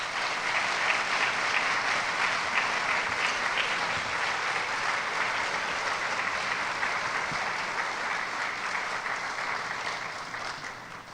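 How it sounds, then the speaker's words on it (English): A convocation audience at Middlesex County College applauds new employees, a long continuous wash of clapping from a large hall that gradually thins toward the end. "Let's have a round of applause for all our new employees."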